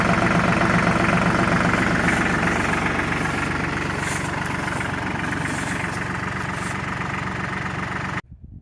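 A TYM 2515 compact tractor engine idles steadily and loudly up close, a continuous low diesel rumble with a knocking throb, until it cuts off abruptly near the end.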